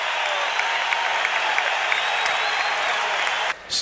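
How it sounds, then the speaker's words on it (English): Basketball arena crowd at an Orlando Magic home game during the 1989 expansion season against the Detroit Pistons, cheering the halftime lead: a loud, steady roar of applause and shouts that holds throughout, then drops out abruptly near the end. "listen to the crowd"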